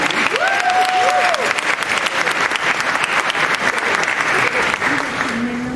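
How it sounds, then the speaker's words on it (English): Graduate students at a university orientation and welcome event break into loud, sustained applause, a dense steady wash of clapping filling the room throughout, with a few brief voices over it near the start. "Please give yourselves a big round of applause,"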